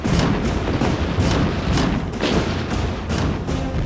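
Swiss anti-aircraft cannons of the 1914–1945 era fire in rapid, loud repeated bursts, the dense booms overlapping into a continuous barrage with no pause and no voices.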